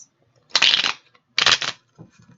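Tarot cards are shuffled close up in two quick riffling bursts, each lasting about a third of a second, with a faint softer handling sound after them.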